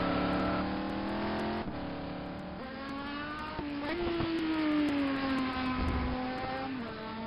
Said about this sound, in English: Look at the way he actually throws the car into the corner.